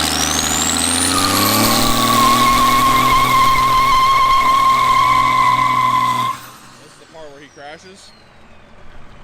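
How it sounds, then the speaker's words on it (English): A Cummins diesel-swapped Mustang launches with a loud, sustained high-pitched belt squeal over the roaring engine for about six seconds, then cuts off abruptly, leaving quieter background noise. "I think the belt might have been slipping. I heard this squealing noise."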